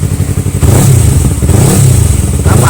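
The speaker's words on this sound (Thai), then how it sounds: "เดี๋ยวดูรอบการทำงานของเครื่องยนต์กันนิดนึง" A 2015 Yamaha YZF-R3 motorcycle engine revs loudly and close by, its rumble rising and falling over a steady idle.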